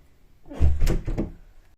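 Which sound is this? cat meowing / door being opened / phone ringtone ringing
door being opened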